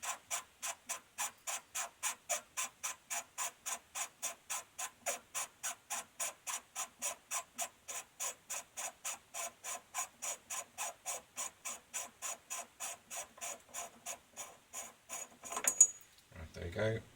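Regulator pot of an Air Arms S200 air rifle being unscrewed, giving a long, steady series of evenly spaced ratchety clicks, close and fairly quiet, ending with a brief handling rattle.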